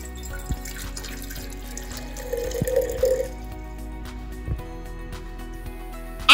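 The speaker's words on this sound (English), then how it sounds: "Measure 1 cup of water into the jar." Water is poured into a jar, a brief trickle and splash over a low background hum, with a faint drip or two afterward.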